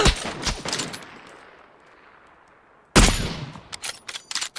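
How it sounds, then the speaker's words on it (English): Gunfire in the shooter game PUBG: loud bursts of rapid shots at the start, a fading echoing tail, then another close, sharp volley of shots near the end. "Nice shots, nice shots."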